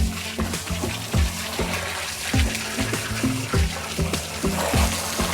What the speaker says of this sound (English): Just need a hose, and we're just going to hose all the bits out.